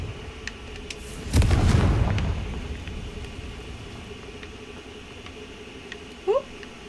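A Confringo fire spell explodes in Hogwarts Legacy with one sudden loud boom that decays into a long crackling rumble, followed by quiet ambience and a short chirp near the end.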